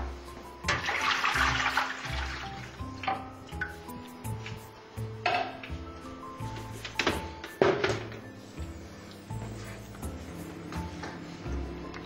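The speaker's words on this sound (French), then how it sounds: "remplir la plaque un maximum d'eau de manière à cuire dans un milieu humide" Water pours into an oven tray for cooking a venison terrine, splashing and trickling in uneven bursts, with a few metallic clinks of the tray and knocks nearby.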